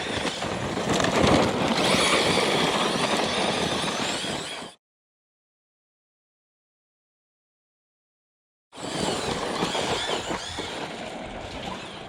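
An Arrma Fire-Team RC car at wide open throttle gives off a steady, loud electric motor whine and tire roar for several seconds. It then cuts to silence and resumes at the same pitch.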